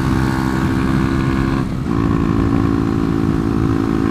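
A 125cc motorcycle engine drones steadily at high revs, briefly dipping as a gear is dropped on a slight uphill before pulling again, loud and close throughout.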